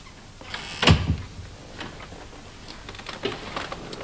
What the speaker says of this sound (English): Close the door, Timmy